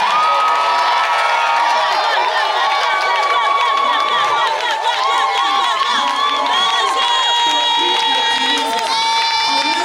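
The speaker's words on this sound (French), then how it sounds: "je vais te demander d'acclamer très fort le Seigneur" A church congregation at a Sunday worship service cheers loudly for the Lord, a sustained dense roar of shouts, whoops and high voices from a large crowd filling the room without pause.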